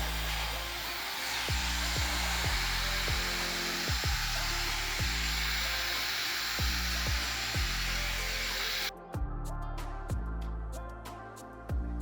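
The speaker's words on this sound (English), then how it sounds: "put a concentrator on the blow dryer to make my hair more smooth and control the frizzy" Loud, close blow dryer fitted with a concentrator nozzle, a steady whooshing roar drying hair while a brush knocks in a regular rhythm underneath, the airflow cutting off sharply near the end as the knocking continues.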